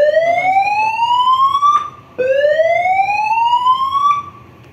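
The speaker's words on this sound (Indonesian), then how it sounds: "Dan di sini langsung kita coba alarm message." A building emergency alarm tone from a speaker amplifier system sounds as two loud rising whoop sweeps, each about two seconds long, separated by a brief gap.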